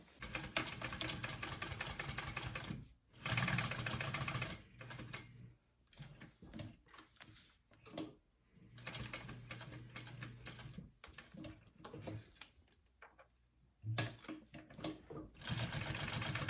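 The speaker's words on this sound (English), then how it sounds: "And then you're going to sew that together" Sewing machine stitching a backpack's connector straps together, running in several loud bursts of rapid mechanical whirring and clatter separated by short pauses, close and alone without voices.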